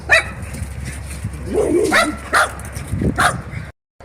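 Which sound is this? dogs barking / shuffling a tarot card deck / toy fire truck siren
dogs barking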